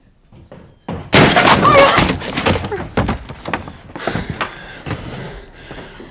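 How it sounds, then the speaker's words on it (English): A wooden door in a period drama is smashed in with a loud splintering crash, followed by clattering debris and scuffling, with a few voices underneath. "Open the door or break it down"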